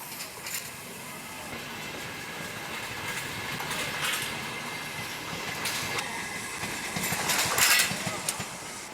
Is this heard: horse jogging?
no